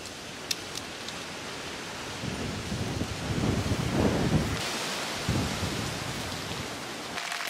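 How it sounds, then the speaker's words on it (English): Rain begins falling outdoors by the sea in Positano during windy weather, a broad steady hiss of drops on surfaces that swells and thickens midway, with faint low rumbles, continuous and fairly close. "It's starting to rain."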